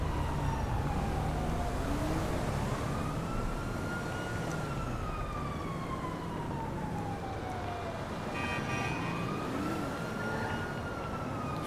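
In GTA V, an ambulance drives past with its siren on, a loud wail that rises and falls in slow sweeps over steady road and engine noise, with no talking.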